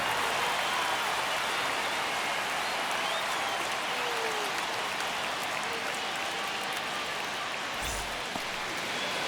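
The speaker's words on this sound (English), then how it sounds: "The crowd is amped up, ready to get this season underway" Stadium crowd in the baseball video game MLB The Show 25 before a Milwaukee Brewers vs New York Yankees game, a steady dense roar of cheering and applause throughout, with a brief low thump near the end.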